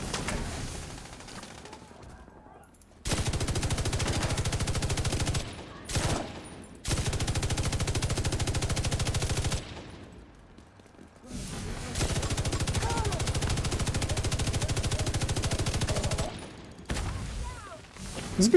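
Bursts of sustained machine gun fire in a video game, several long automatic strings separated by short pauses, fairly loud and steady, with a voice speaking between bursts.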